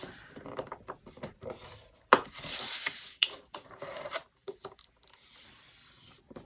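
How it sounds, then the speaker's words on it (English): Paper being scored at half an inch on three sides with a scoring tool for an Echo Park 6x6 folio, heard as soft close rubbing and scraping strokes in short bursts, with one louder drawn stroke in the middle. "And now score this at 1/2 inch on 3 sides."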